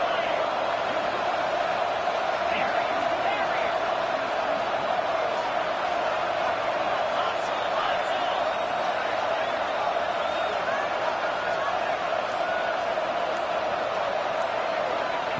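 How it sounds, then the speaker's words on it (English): A dense, steady roar of a large stadium crowd in the football video game College Football 26, at North Carolina vs. TCU, fills the space without letup, with scattered shouts and whistles rising from the mass of noise. "here comes the noise. This crowd is trying to inspire this defense to make a big red zone stop"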